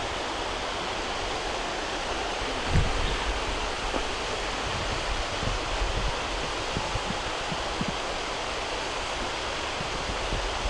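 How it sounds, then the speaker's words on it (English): Waterfall beside an old pack horse bridge after overnight rain, a steady broad rushing roar of falling water filling the scene, loud and continuous with a few low thumps and no voices. "There's a fantastic waterfall behind it."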